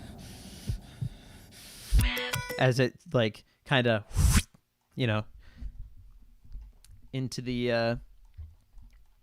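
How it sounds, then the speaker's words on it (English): Soft, low heartbeat thumps from a sound effect in a song's pre-chorus pulse briefly at the start, then sit faintly beneath someone talking over the track. "also got some heartbeats as well, which is fun"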